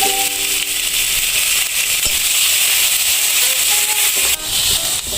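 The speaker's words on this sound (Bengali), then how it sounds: "পেঁয়াজ আর রসুনটা আমি হালকা ভেজে নিয়েছি" Chopped onion and garlic frying in white oil in a pan for homemade pizza sauce, a loud, steady hiss of sizzling with a few faint clinks, close up and without talk.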